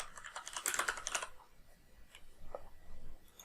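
A component name is typed on a computer keyboard during Autodesk Fusion 360 modelling: a quick run of light key clicks, then a few scattered taps, soft and close, with no speech.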